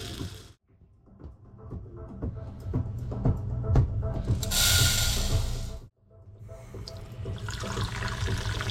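Water pours steadily into a pot of buckwheat, splashing and rattling for several seconds, loud and close, with clattering handling noises before and after and faint background sound.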